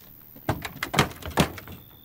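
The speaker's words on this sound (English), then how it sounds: "the guy will kick the door down" In Resident Evil 7, a door gets kicked down in a cluster of heavy thuds and wooden cracks, four or five close, loud impacts within about a second and a half.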